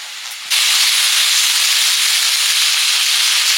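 Water poured into a pan of frying potatoes and slit green chillies for aloo posto sets off a sudden loud, steady hiss that starts half a second in and holds evenly to the end, with no talk.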